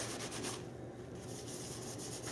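A cloth dampened with rubbing alcohol rubs back and forth over a GoPro sticker mount, a close, soft scrubbing swish in short repeated strokes with no talking.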